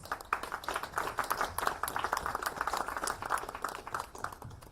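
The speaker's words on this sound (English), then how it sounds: "please welcome them with a huge round of applause" An awards-night audience applauds as panelists come up to the dais, a steady, moderately loud patter of many hands clapping throughout with no talking over it.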